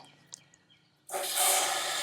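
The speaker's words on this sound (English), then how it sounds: "get some water going into the black tank" Water from a hose rushing into an RV black tank: quiet at first, then a sudden loud, steady hiss of flowing water that continues to the end.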